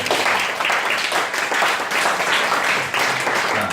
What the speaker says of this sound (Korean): 우리 유년부 소년부 선생님들 위해서 우리 정리의 박수 한번 해주세요